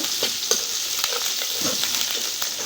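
Onion and garlic fried in oil with cardamom, cinnamon and bay leaves, stirred in a pan: a steady close sizzle broken by repeated scraping strokes of a spatula at an irregular rhythm.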